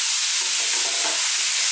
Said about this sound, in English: for about 2 to 3 minutes on this extremely high heat, we're going to just throw this around in the pan